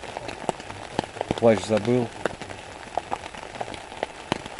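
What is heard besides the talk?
heavy rain falling at a riverside while fishing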